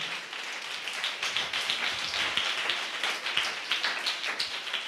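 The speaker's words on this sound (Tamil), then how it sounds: "விசுவாசிச்சிங்கன்னா தலைக்கு மேலே அவருக்கு ஒரு கைத்தட்டு கொடுங்க" A church congregation clapping with raised hands over their heads, a steady rapid patter of many hands, fairly soft and even throughout.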